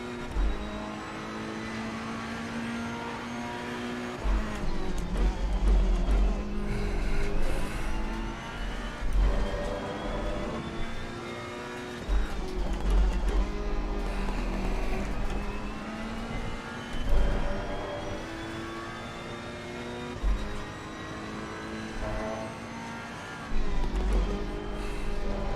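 Ferrari and Bentley race cars lapping Zolder circuit in a Pro League Racing sim event, engines droning and revving continuously with shifting pitch as cars pass, steady and fairly loud for the whole stretch.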